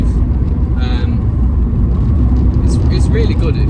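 A 2004 Suzuki Ignis Sport with a five-speed manual gearbox on the move, its steady engine and road rumble droning continuously from inside the cabin while a person talks over it.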